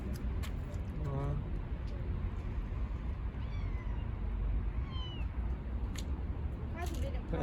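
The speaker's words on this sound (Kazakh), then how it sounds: "Мына мысықты тағы да берем ғой," Street cats near a shopping building in Istanbul give several short, fairly quiet meows, spaced apart over a low urban background. People talk nearby throughout.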